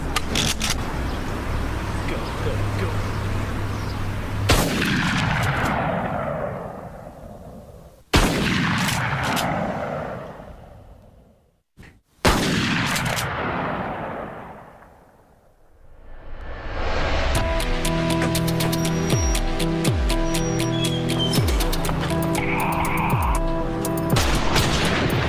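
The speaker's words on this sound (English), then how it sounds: "And then I saw him shooting guns down towards the parking lot." Reenacted gunfire in a school-attack documentary: a series of sharp loud bursts and booming blasts with echoing tails, separated by brief silences, ending in a stretch of dense rapid shots.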